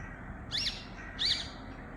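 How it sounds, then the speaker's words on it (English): Feral parrots flying around Düsseldorf, Germany, give two loud, shrill calls about half a second apart, close by, over faint background noise. "there they are, two of the parrots that are flying around Düsseldorf"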